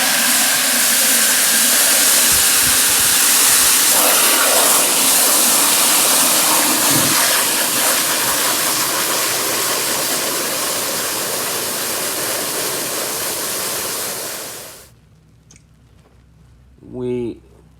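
Water gushes hard and steadily into a bucket with a little car-wash soap for about fifteen seconds, then cuts off, leaving quiet with a brief sound afterward.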